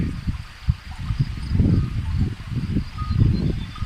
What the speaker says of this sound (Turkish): Derenin sesi.